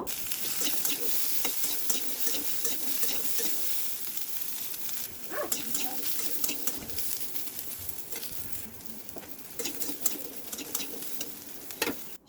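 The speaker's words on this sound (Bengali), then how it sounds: "এখন আমি এই তেলের মধ্যে পেঁয়াজ রসুনটা ভালো করে ভেজে নেব" Onion and garlic sizzle steadily in hot mustard oil, with intermittent scraping stirs and a few faint birds chirping in the background. No voices are present.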